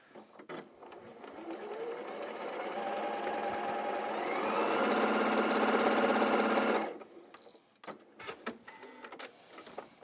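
A sewing machine stitches a quarter-inch test seam for a quilt block, a close rapid mechanical whirring that builds over several seconds, then stops abruptly, followed by faint handling clicks.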